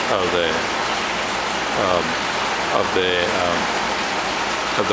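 Water rushes over a stop-log weir in a laboratory flume, forming a drowned hydraulic jump, with a loud continuous turbulent wash while a person talks over it.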